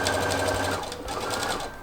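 A sewing machine runs steadily while stitching a bag, its close, continuous mechanical whirr shifting pitch briefly midway as the speed changes, with no talking.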